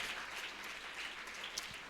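Congregation applauding during a church worship service, a steady wash of clapping from many hands throughout, fairly distant and even with no voices standing out.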